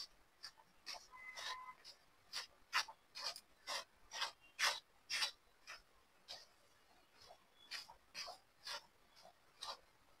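Semolina being stirred with ghee in a pan for laddoos, giving a series of rhythmic scraping, rasping strokes, fairly close and moderate in level, with no talking.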